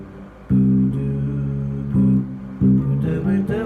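Rich sustained chords ring out one after another, each a dominant flat 9 voicing with a natural 13 on top. Three firm attacks are spaced about a second apart, followed by a quicker shift of voicings near the end.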